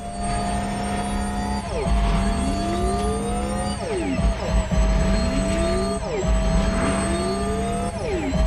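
An electric Porsche Turbo S driving in the racing game The Crew Motorfest, a loud motor whine that repeatedly sweeps upward and drops back as it accelerates, with a steady rumble beneath.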